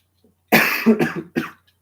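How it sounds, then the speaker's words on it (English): A single close, harsh cough in two or three quick bursts, alone against silence. "Sorry, I had a quick cough there"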